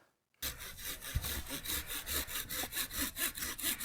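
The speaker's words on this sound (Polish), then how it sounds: "kupiliśmy sobie w końcu taką piłę Fiskarsa rozsuwaną" A Fiskars extendable hand saw cuts through dry wood outdoors in a forest, making steady rhythmic back-and-forth rasping strokes, close and continuous with no talking.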